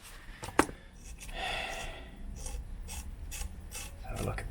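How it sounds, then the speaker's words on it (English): A wrench undoes a nut on a water pipe with quiet, close ratcheting clicks and grinding metal turns, including one sharp click near the start. "Now we're going to undo our nut."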